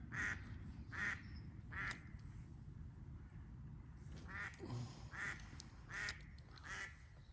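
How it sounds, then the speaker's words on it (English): Ducks quacking at a fishery, a steady series of about eight nasal quacks spaced roughly a second apart over a low outdoor rumble, moderately distant. "these ducks make a racket"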